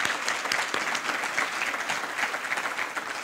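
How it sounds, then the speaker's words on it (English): Audience at an evening public forum gives a round of applause, many hands clapping in a sustained, moderately loud roll with slight swells and no talk over it. "we want to recognize them with a round of applause."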